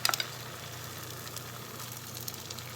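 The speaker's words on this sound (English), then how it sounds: "scoop the egg and put it in the skillet" An egg frying in a skillet for an omelette: a steady, soft sizzle holds throughout, with a few sharp spits and crackles right at the start when the egg hits the hot pan.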